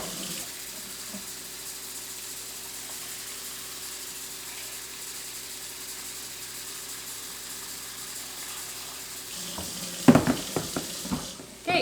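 A pot filling with water from a kitchen sink tap, a steady rushing hiss of running water that continues evenly, ending in a few louder knocks and clatters.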